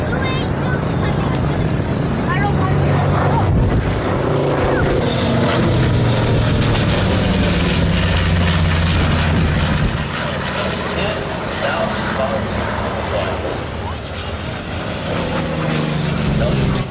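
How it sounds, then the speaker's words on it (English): A B-25 bomber passes at an air show with a loud, continuous roar of twin propeller engines that swells and holds steady as the aircraft flies by. "Listen to this airplane as it comes by here."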